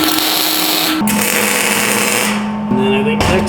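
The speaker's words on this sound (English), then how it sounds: "I'll just tack it in for the time being" Arc tack welds on a steel plate set on a 6-inch Baileigh manual weld positioner, a steady crackling buzz with a humming tone that shifts pitch in two or three segments, loud and close, with no talk.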